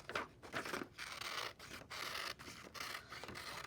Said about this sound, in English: and cut that circle out.